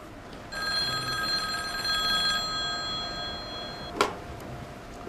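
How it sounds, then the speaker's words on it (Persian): A telephone rings in a shop during a Persian drama series, giving a clear, steady electronic trill for about two seconds, followed by quiet and then a short sharp click. "تلفنتون داره زنگ میزنه."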